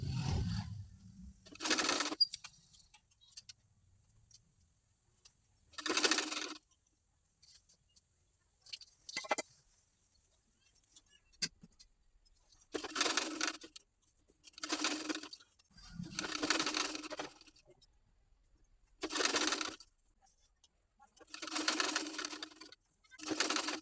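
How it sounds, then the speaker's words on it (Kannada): Bursts of a sewing machine stitching a one-inch folded hem on a garment's back piece, several runs of rapid mechanical whirring a few seconds each, separated by quiet pauses and faint handling noises. "ಈ ರೀತಿ ಬ್ಯಾಕ್ ಪಾರ್ಟ್ಗೆ 1 ಇಂಚು ಫೋಲ್ಡ್ ಮಾಡಿ ಸ್ಟಿಚಿಂಗ್ ಮಾಡ್ಕೊಂಡಾಯಿತು."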